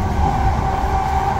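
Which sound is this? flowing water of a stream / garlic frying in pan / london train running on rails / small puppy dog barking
london train running on rails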